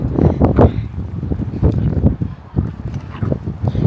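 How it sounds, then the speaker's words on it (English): Strong gusts of wind buffet the microphone outdoors beside the Oslo Opera House in Norway, a loud, continuous low rumble that swells and dips in waves across the whole stretch. "Ooh, that wind."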